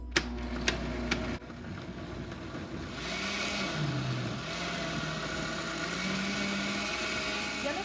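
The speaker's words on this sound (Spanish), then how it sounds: "Vamos a ponerlo a moler." A blender runs steadily for about eight seconds, grinding maseca corn flour with water: a continuous, even motor whir with a constant tone and no pauses or voices.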